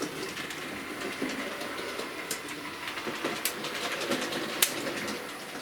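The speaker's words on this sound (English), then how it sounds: "Runs nice. Nice little loco this is." Model railway locomotive running on track through Peco points in a fiddle yard, a faint steady rolling hum with light clicks as it crosses the rail joints.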